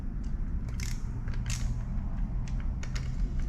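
A wrench works loose a bolt on a Razor Crazy Cart XL front wheel, giving a series of short metallic creaks and clicks over a low hum, close and fairly quiet.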